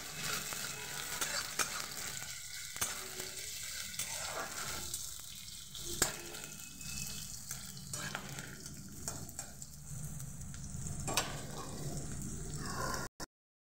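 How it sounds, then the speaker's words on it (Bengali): Sliced onions fry in mustard oil in a wok, with a steady loud sizzle throughout and rhythmic spatula stirring and scraping against the pan, continuing without speech until it cuts off abruptly. "ভালো করে পেঁয়াজটাকে লাল করে ভেজে নেব।"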